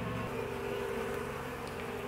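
A honey bee colony hums steadily from an open hive, a dense and continuous buzz heard up close. The drone holds an even level throughout with no voices.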